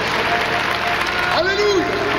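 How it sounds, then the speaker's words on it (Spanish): A church congregation applauding the Lord during a worship service, dense sustained clapping with a rising vocal exclamation heard over it partway through. "Dele un aplauso al Señor con todo su corazón."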